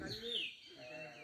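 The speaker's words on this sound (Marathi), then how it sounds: "बघा चिमण्या वगैरे ओरडतात" A brief burst of high, thin sparrow chirps against a faint outdoor village background.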